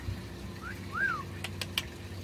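Cape parrot indoors giving a single short rising-and-falling whistled call, followed by a few sharp clicks against a low background hum.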